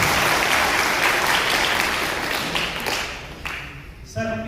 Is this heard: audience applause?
yes